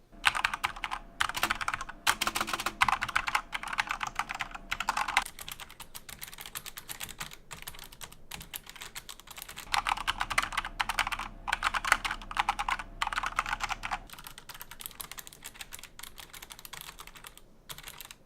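Fast, continuous typing on a Corsair K70 RGB Rapidfire mechanical keyboard, crisp clacking keystrokes in bursts with short pauses, recorded up close with no talking.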